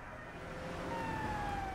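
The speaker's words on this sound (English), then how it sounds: "God, I hear the sirens." A faint police siren in the video game GTA 3 wails over a low engine rumble, its tone sliding gently downward.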